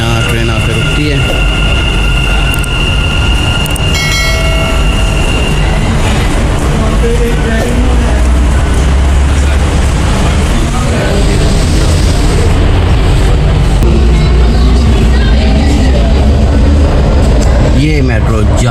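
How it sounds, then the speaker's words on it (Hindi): A Dubai Metro train rumbles and clatters loudly as it pulls into a station, with voices and a public-address announcement faintly audible underneath. "यहाँ ट्रेन आकर रुकती है"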